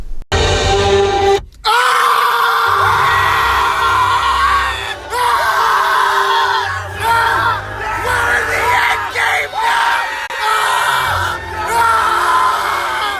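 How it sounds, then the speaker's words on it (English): Several people yell and scream loudly together at close range inside a car, sustained shouting with brief breaks, sounding enclosed and distorted. "That was us yelling very loudly. I bet you heard that. It was loud as shit."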